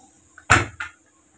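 A lid set down on a cooking pot of mutton boti curry, two quick clattering knocks close together, the first louder than the second, then quiet.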